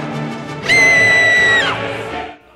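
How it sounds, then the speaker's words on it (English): A character in the video game Rock of Ages lets out a loud, high, sustained scream lasting about a second, rising sharply out of busy game noise and fading back into it. "the first time I heard Leonetta scream like a little girl."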